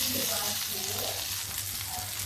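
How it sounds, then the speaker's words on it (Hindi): Boiled potatoes frying in a pan until crisp give off a steady, dense sizzle with a low hum beneath it, with faint bits of voice in the background. "ये देखिए इस आलू को हम फ्राई कर लेंगे थोड़ा सा करारा करारा, इसे हम फ्राई करेंगे"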